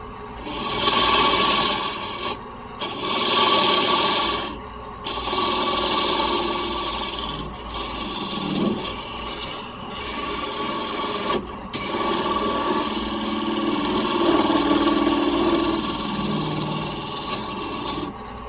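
A cutting tool shaves a wooden bowling pin spinning on a wood lathe, giving a loud continuous rasping scrape that breaks off briefly several times and then resumes.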